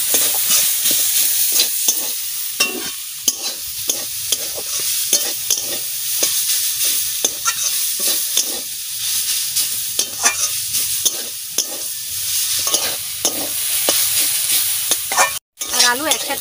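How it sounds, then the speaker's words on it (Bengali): Radish greens and potatoes fry together in a pan with salt and chillies, a loud continuous sizzle broken by rhythmic scraping and clattering as a spoon stirs them steadily, close up, with no talking. "আর এই মূলো শাক আলু একসাথে ভাজা করছি।"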